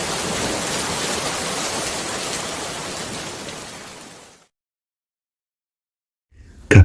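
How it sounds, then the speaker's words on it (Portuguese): Steady heavy rain pours onto city streets as a dense, even hiss. It fades away after about four seconds, then a brief, sharp noise bursts near the end. "Então, a chuva lavou as ruas mais uma vez."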